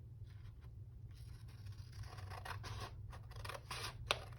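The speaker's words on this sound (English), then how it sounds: "I have to cut this edge off." Scissors cut the edge off a sheet of printed paper in a series of close, crisp snips that grow busier toward the end, with no voices.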